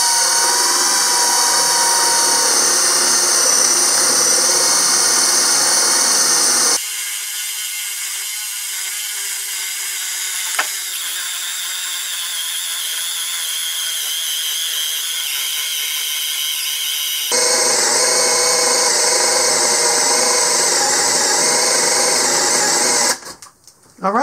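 A Hyper Tough 12 volt 3-in-1 cordless tool drives a bit through three stacked 2x4s, its loud, close motor whine changing pitch as the load shifts through the wood, then cutting out at the end.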